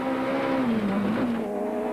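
Rally cars race flat out, a Sasol Ford Escort and a Team Total Toyota Conquest in a Class A8 battle at the 1998 Rally of South Africa; a loud, close engine note wavers and dips as the car passes through, with no voices.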